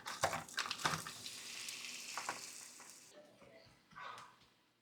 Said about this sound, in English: So now we got the shrimp. We're just gonna go ahead and throw it on the pan here.